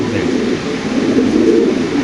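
Spanish pigeons coo in a continuous low, rumbling drone, close and loud, with a busy background and possible voices mixed in.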